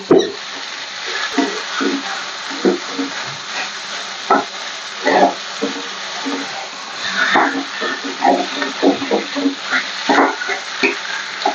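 Grated potato filling for a vegetarian chop fries in a pan, a continuous close sizzle broken by frequent scraping stirs and clacks of a spoon in an irregular rhythm.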